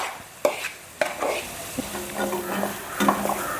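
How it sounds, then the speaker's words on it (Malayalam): Ginger fries in hot coconut oil over a medium flame for Kerala-style puli inji, with a soft crackling sizzle and a few sharp clinks of a spoon stirring against the pan. "അപ്പോൾ നമ്മൾ ഇഞ്ചി വറുക്കുമ്പോൾ എപ്പോഴും ഒരു മീഡിയം ഫ്ലെയിമിലിട്ടിട്ട് വേണം ചെയ്യാനായിട്ട് കേട്ടോ"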